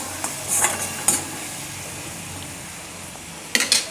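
Spices crackling in hot oil for a Maharashtrian phodni, the tempering for a hadga flower bhaji: a soft steady fry hiss with a few sharp bursts of spattering near the start and again at the end.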